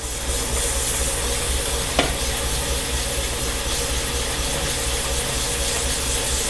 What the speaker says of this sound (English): you're just sanding out the scratches from the last one